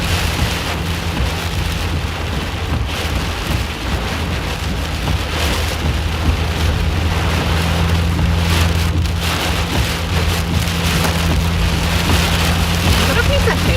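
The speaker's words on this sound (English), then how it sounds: "Was that a piece of hail? That was." Steady heavy rain and hail drum on a storm chase vehicle during a derecho in Illinois, a loud continuous patter with a low rumble underneath throughout.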